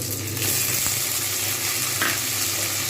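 Tomatoes dropped into a hot pan of frying katla fish curry, giving a steady close sizzle with faint stirring throughout and a brief brighter hiss near the end.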